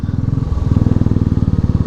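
A motorcycle engine thumps with a fast, loud, pulsing putter close by, its beat quickening as it goes past.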